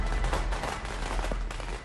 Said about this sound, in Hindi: हर तरफ लोग पटाखे छोड़ते दिखे